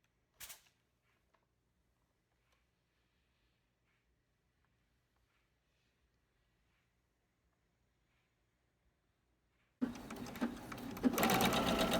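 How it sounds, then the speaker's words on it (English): A home sewing machine stitches two pieces of a Christmas tree skirt together, its loud steady whirring starting suddenly after a long quiet stretch broken by one brief early clatter. "I'm sewing those two pieces together"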